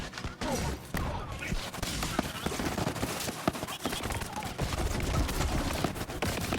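A Halloween-themed shotgun fires repeatedly in a video game, with dense bursts of gunfire and busy game effects close and loud throughout, running continuously under a man's speech.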